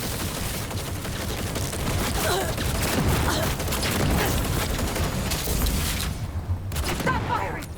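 Rapid bursts of gunfire in a first-person shooter, played on very hard difficulty, crackling continuously at close range over a rumbling battlefield, with shouted voices mixed in.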